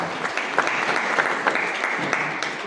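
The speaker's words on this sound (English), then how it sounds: "A round of applause for them as well." Audience applause for students at an event, a brief steady spatter of clapping from a moderate-sized crowd, with faint voices underneath.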